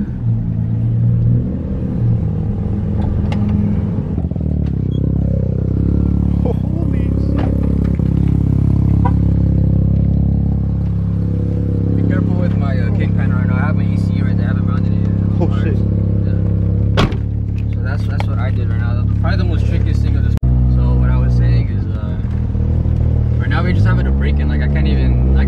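A fully built Mazda RX-7 FD revs and rumbles loudly while driving, its engine note rising and falling continuously with clattering, close inside the car and with no talk.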